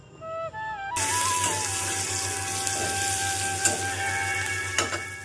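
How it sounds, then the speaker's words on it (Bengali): Chopped onions dropped into hot oil in a pan with a cardamom pod and a dried red chilli, a sudden loud sizzle starting after a brief quiet moment and frying steadily with faint stirring scrapes. "এবার পেঁয়াজ কুচিগুলো দিয়ে দিলাম, দিয়ে ভালো করে লাল লাল করে ভেজে নেব।"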